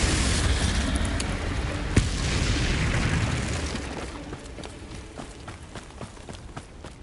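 Confringo and Bombarda spell blasts in Hogwarts Legacy on PS5, a rumbling wash of explosion with a sharp crack around two seconds, fading into scattered smaller pops and debris ticks.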